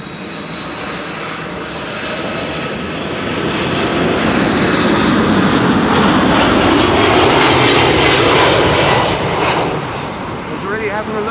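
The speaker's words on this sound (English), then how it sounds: "Delta Airlines Flight 74 arriving from Atlanta, Georgia" Delta Air Lines jet arriving from Atlanta at Amsterdam Schiphol, a loud jet engine roar swelling as it passes close overhead, then easing away, with faint chirping birds at the end.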